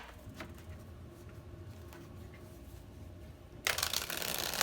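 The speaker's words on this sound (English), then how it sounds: "One more shuffle, maybe." Quiet rustling of handled tarot cards, then a sudden burst of fast crisp riffling as the deck is shuffled up close.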